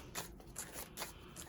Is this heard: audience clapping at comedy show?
no